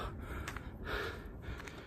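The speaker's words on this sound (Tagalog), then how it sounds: "Hinihingal ako." A person walking outdoors on a Sunday walk breathes in heavy, rhythmic gasps and pants, about three close, breathy pulses over steady background hiss.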